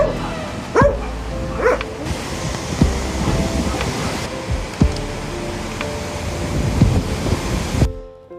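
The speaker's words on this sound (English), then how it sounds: "is very windy" Gusty wind roars steadily against the microphone while a dog barks a few times nearby, with a low rumbling background throughout.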